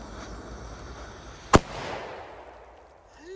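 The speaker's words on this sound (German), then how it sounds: "Ist auch ein Reibkopfböller." Cobra 3 friction-head firecracker exploding outdoors, a single sharp loud bang at a distance followed by a decaying rumble over background noise.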